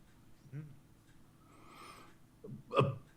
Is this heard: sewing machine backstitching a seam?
no